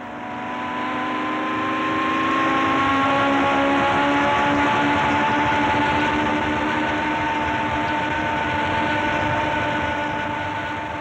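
Classic Formula 1 car heard onboard near 200 mph with a Ferrari just ahead: a loud, sustained high-revving engine drone holds steady and close throughout, with no talking.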